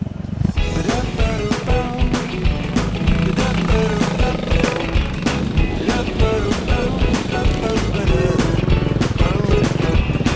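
A trail motorcycle engine runs loud and steady the whole time on a dirt road, with a rough, pulsing drone and no talking.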